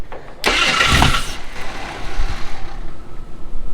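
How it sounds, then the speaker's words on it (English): An off-road vehicle engine with a suspected bad valve spring starts with a loud burst of revving, then settles into a rough, uneven idle with a pulsing, knocking beat close by. "That sounds like a valve spring."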